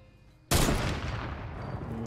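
A turret opens fire in Fortnite on PS4, bursting in suddenly as a loud, dense rapid-fire stream of gunshots that keeps rattling on without pause.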